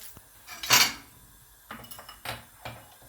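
A ceramic plate clinks sharply against other dishes, followed by a few lighter knocks and scrapes of crockery nearby.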